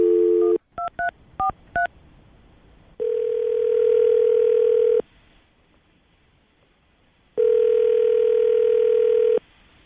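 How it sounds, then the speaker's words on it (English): Telephone call being placed: a burst of touch-tone dialing beeps, then two long, loud steady ringback tones separated by a quiet gap, with no voices. "we're going to call him right now, see if we can get him on the phone"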